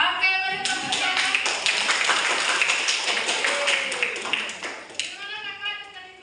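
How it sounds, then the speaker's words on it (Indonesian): A group claps in a quick, uneven patter for several seconds at an Indonesian gathering, with a voice heard at the start and end. "Oke, mari tepuk tangan."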